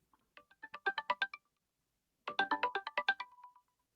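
A phone ringtone plays while calling a friend: two loud bursts of rapid, melodic electronic tones, each lasting about a second, separated by a pause, with no voices.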